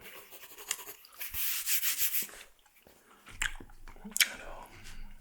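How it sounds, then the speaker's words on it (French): An eraser rubs back and forth on paper while a portrait is drawn, soft close scrubbing strokes in a few bursts with quiet pauses between them, and no talking. "Alors, devoir gommer un petit peu."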